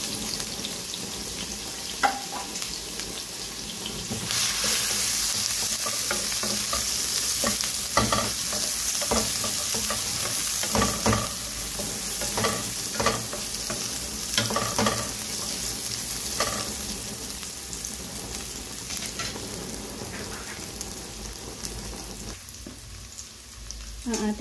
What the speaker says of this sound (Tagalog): Naglagay tayo ng cooking oil. Igisa natin.